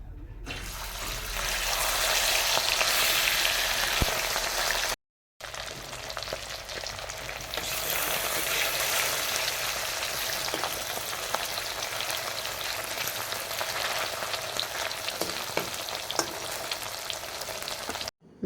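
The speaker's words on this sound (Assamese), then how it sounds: "মাছখিনি আগতে ফ্ৰাই কৰি ল'ম।" Turmeric-coated fish fries in oil in a wok, giving a steady, loud, close sizzle that runs continuously with a brief break near the middle and no talking.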